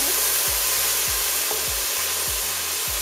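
Chopped onion sizzles in about a tablespoon of melted butter, a steady close frying hiss with a few soft low thumps from stirring, no voices.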